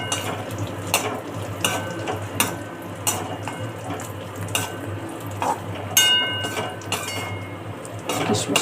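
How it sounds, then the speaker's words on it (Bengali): Raisins fry in ghee with a moderate sizzle, punctuated by sharp spoon clicks and scrapes against the pan, a low steady hum underneath, and no speech. "কিশমিশগুলো ভাজা হয়ে গেছে"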